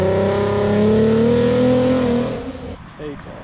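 A car revs hard and pulls away at a Cars & Coffee meet, its rising engine note loud and close before fading off as it departs, with people talking over it.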